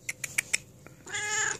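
Four quick high chirps followed by a longer, drawn-out cat meow, close and clear, with no talking.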